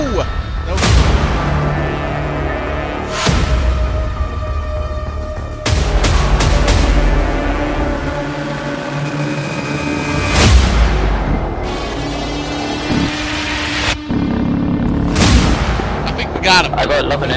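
Heavy booming blasts from aircraft-dropped bombs in the DCS combat flight game, several loud explosions spaced through the stretch over a constant engine drone, with a voice speaking at times.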